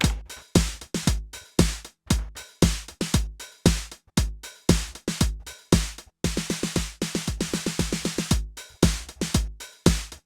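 Punchy Roland TR-909 drum machine beats cycle through several patterns, with steady kicks and snares, a dense stretch of rapid snare rolls in the middle, and no talking.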